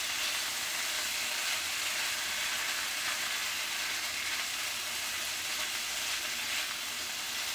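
Garlic, steak and shrimp stir fry in a hot pan, giving off a loud, steady close-up sizzle that runs unbroken throughout, with no talking.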